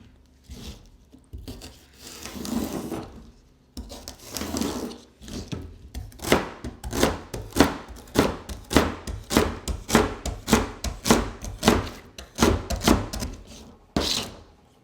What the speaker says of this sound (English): While your bread is toasting, you're going to chop 2 sticks of celery and 1/4 cup of leeks